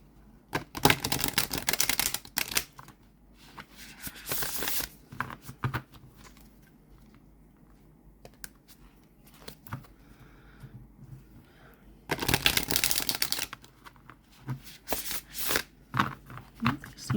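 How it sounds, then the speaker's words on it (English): Oracle cards are shuffled by hand in two bursts of crisp, rapid riffling close to the mic, separated by a quieter stretch of light handling. "give these a shuffle"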